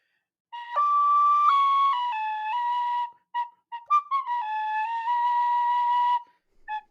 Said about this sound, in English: we got the tin whistle working again